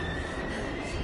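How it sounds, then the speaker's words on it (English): A train rumbles in the video game Heavy Rain, a dense, loud, continuous roar of rolling rail noise with no voices over it. "We gotta get on that train, Ethan."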